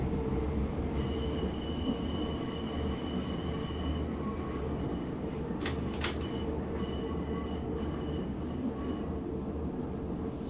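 Simulated subway train running downhill in Subway Sim 2, a steady loud rumble of wheels on rails with high squealing tones and a couple of brief sharp clanks midway.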